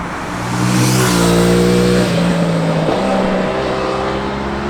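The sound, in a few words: Aprilia Tuono 660 parallel twin motorcycle revving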